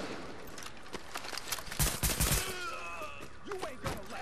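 Pistol gunfire in The Division comes as a string of sharp shots, strongest in a quick cluster near the middle, with game sounds and a voice in the background.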